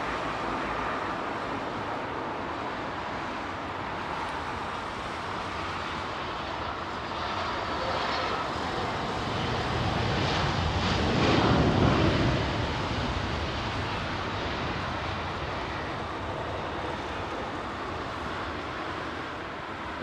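Aging British Airways jet engines roar steadily at Heathrow Airport, a broad continuous rumble that swells louder in the middle as an aircraft passes close, then eases back to a constant background drone.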